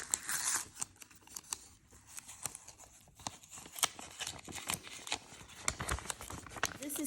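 Paper crackles and tears as a mailed envelope holding a card is opened, a run of quiet rustles and sharp crinkling snaps spread unevenly across the moment, close to the microphone with no talking.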